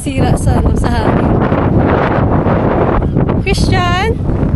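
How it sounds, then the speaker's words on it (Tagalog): Strong wind buffets the microphone in a loud, continuous rumble in Llandudno, Wales, with voices talking partly through it. "Kasi medyo mahangin."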